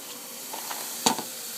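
Carrots are added to a pot of frying onions for a chicken stew, giving a faint, brief sizzle and a soft stirring scrape against a low background hiss.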